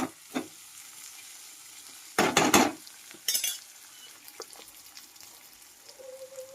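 Onions frying in a pan for a dry vegetable curry, stirred a few times with a utensil so that bursts of sizzle and scraping scrape out against a quiet kitchen background.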